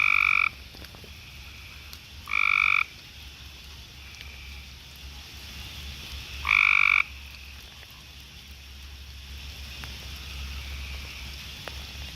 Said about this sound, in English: right there is a calling frog of some sort